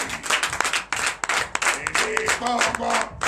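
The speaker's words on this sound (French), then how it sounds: "Donnez de l'acclamation à notre Seigneur Jésus." A congregation claps and cheers during a Sunday worship service in Comè, Benin, with uneven bursts of hand claps and voices calling out, close and lively, ending in a brief sung tone.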